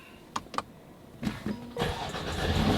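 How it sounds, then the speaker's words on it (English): A 2020 Mercedes A35 AMG that has been in a crash cranks and its engine catches after a crash reset, with a couple of short clicks first, then a brief starter whir and a rising, steady engine note close by. "Let's see if this car's gonna start."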